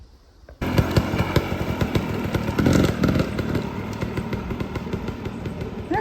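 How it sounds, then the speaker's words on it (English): A motorcycle engine bursts in loud and close, roaring steadily as it passes along the Colorado Trail, with rattling and clatter underneath. "I heard there were motorcycles on parts of this trail, and that one just went by"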